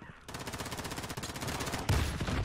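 Rapid, steady automatic fire from an AK-47 in Call of Duty: Modern Warfare, a long, evenly spaced burst close up and loud, ending in a heavier impact.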